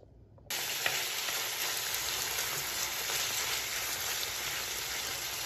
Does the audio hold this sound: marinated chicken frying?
yes